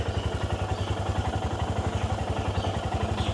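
A motorcycle at the start of a long-distance road trip from Kolkata idles close by with a steady, rapid chugging beat that stays even and loud throughout.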